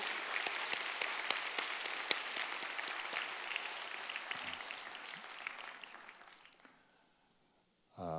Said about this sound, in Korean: 그분들을 위해서 우리 감사의 박수 한번 드리겠습니다.